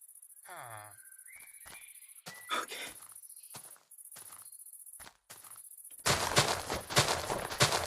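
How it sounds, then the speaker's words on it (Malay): Video game ambience with insect-like cricket chirping in daytime alongside footsteps and clicks, ending in a burst of dense, loud noise. "Waktu siang memang ada bunyi cengkerik ke guys?"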